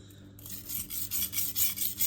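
Knife blade rubbed along a Cheefarcut sintered diamond stone of 400 grit, a gritty rasping scrape repeated in about four rhythmic back-and-forth strokes after a short quiet start, close and with no talking.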